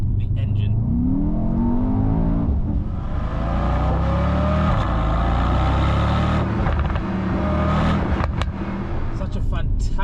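A Mercedes-AMG E63 V8 in Sport Plus mode revs hard and steadily, its engine note rising and holding loud and close through the whole stretch, with someone talking over it.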